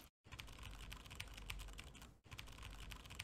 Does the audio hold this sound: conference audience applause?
no